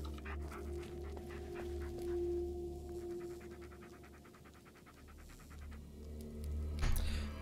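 A dog in the Blair Witch video game pants rhythmically and close, with soft whimpers, over a low ambient drone, ending in a brief louder thump.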